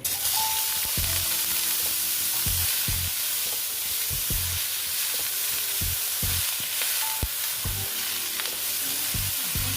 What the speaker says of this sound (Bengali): তেল দিয়ে দেখো এই কপিগুলো একটু ভেজে নেব।